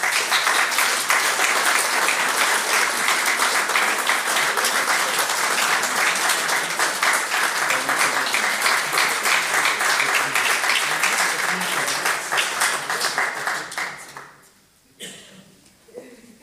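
Audience at a public academy session of the Classe des Lettres et des Sciences morales et politiques applauding prize winners: dense, sustained clapping for about fourteen seconds that then dies away, leaving only a few scattered claps.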